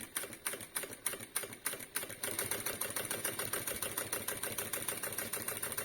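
A sewing machine runs in bursts during freehand quilting, its needle hammering in a fast rhythmic clatter, first in short separate spurts and then as a steady continuous run, close and alone.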